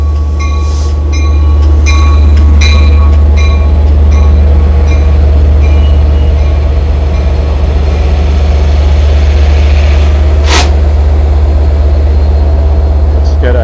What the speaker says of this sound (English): Get ahead of the diesel noise.